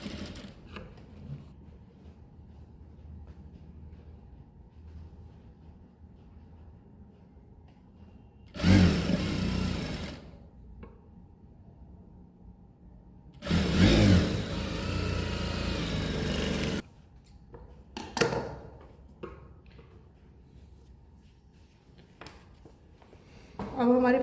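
A sewing machine stitches a palazzo pocket in two loud bursts, the second one longer, with a short stitch run near the end and quiet room tone between.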